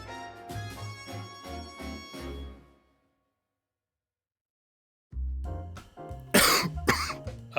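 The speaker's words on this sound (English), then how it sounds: "A bad cough never comes at the right time." A person coughs in a rapid run of harsh bursts, stops for a couple of seconds of silence, then coughs again more forcefully, close by.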